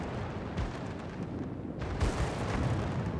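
Secondary battery guns fire in the World of Warships naval video game, a steady wash of dull booms and rumbling blasts running through the moment with no clear separate shots.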